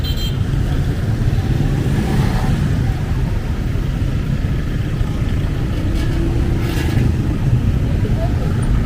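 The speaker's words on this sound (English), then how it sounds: "Today Friday, traffic again" Busy road traffic on Fields Avenue in Angeles City, Philippines, forms a continuous wash of engine and tyre noise, with passing vehicles swelling briefly and indistinct voices mixed in.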